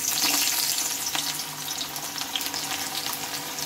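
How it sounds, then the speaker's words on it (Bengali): Thinly sliced onion sizzles steadily in hot oil, a dense continuous frying hiss close up, slightly louder at first then settling, with faint clinks and no voices. "এই পেঁয়াজটাকে আগে আমি ভালোভাবে ভেজে নেব।"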